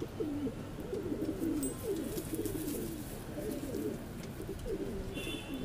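Madrasi pigeons coo repeatedly in soft, rolling phrases, close by and fairly quiet, with faint background chirps and no talking.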